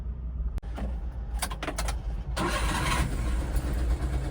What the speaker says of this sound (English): Let's see if I can get it started, because I know this is a very sought after truck